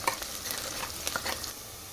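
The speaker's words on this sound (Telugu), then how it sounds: "ఆనియన్ ఇలా ఫ్రై చేసుకోవాలి గోల్డెన్ బ్రౌన్ వచ్చే వరకు ఆనియన్ని ఫ్రై చేసుకోవాలి" Onions fry in hot oil until golden brown for a mutton masala curry, giving a steady, faint sizzle broken by light stirring scrapes close by.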